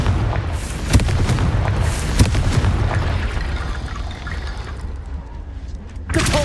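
Loud Confringo fire-spell explosions in Hogwarts Legacy: a dense, rumbling blast texture punctuated by sharp cracks near the start and again at the very end, with a brief quieter lull before the final hit.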